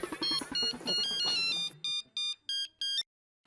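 A mobile phone ringtone plays a bright electronic melody, first over a busy music-like passage and then as four separate repeating tonal bursts with short gaps before stopping abruptly.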